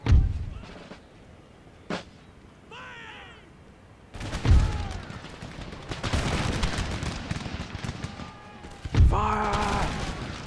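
Musket volleys in Empire Total War, with several sharp booming discharges and rolling crackles of massed fire across a battlefield, separated by quieter stretches with shouted commands and groaning voices.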